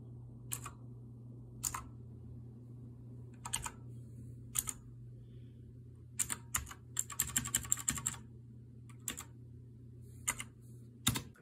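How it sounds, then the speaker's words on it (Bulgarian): Aula Assault mechanical keyboard being typed on, sharp clicky keystrokes in isolated taps and short rapid bursts, close and crisp over a low steady hum, no talking. "За хората, които се чуят как се чува тази клавиатура, доста е кликаща, но ето ви един саунд тест"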